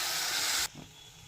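Mustard seeds splutter in hot oil while tempering for a tomato dish, producing a loud, dense hiss for just over half a second that cuts off abruptly into quiet faint sizzling.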